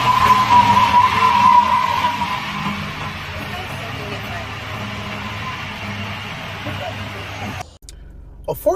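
A car is dragged along with its brakes locked, tires skidding with a rough, scraping squeal that fades gradually before cutting off sharply, while people talk over it.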